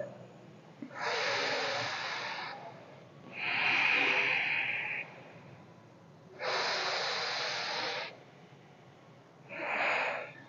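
Slow pranayama breathing through one nostril, long forceful nasal inhalations and exhalations alternating in steady cycles with short pauses between, close and fairly loud with no talk.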